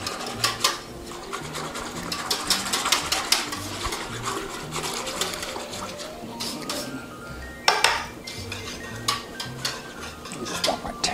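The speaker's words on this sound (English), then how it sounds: "now we'll give it a quick stir" A spoon stirs a coffee and wine mixture, making rapid rhythmic clinks and scrapes against the container, close and continuous, with a few sharper knocks.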